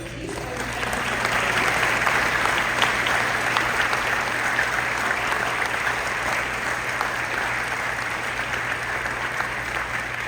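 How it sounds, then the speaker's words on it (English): A banquet audience claps in a sustained, dense round of applause that holds evenly for about ten seconds before easing slightly, filling the room. "May we have a round of applause celebrating these organizations."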